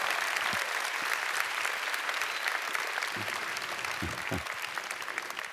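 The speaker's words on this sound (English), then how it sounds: "Can we have another round of applause?" An audience applauds steadily at an Australia Day event honoring a First Nations dance group, a dense, even wash of clapping throughout with a few low thumps, and no voices over it.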